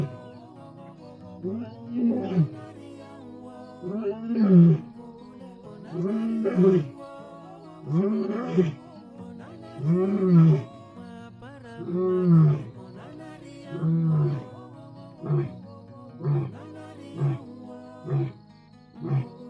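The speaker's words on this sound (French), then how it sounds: "s'arrêter pour commencer à faire ses rugissements que je vais vous laisser écouter tranquillement" A wild lion roars in the open, a long series of deep grunting roars that swell and fade rhythmically, about a dozen heavy calls evenly spaced and fairly close.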